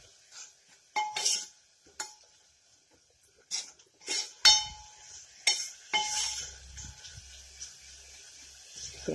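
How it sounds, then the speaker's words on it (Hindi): Spices, tomato and chilli being sautéed in a pan for guava curry, with sharp metal spoon scrapes and clinks against the pan in scattered bursts, close and fairly quiet, with a low rumble late on. "अब इन सब मसालों को डालकर हम इसको अच्छे से भून लेंगे।"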